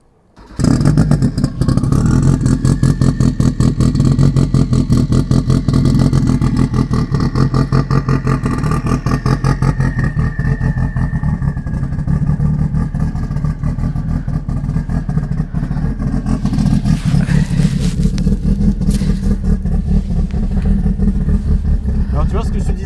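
Renault R5 Turbo engine revving hard with its exhaust valve open, a loud, continuous throaty roar that rises and falls close by, with people talking over it.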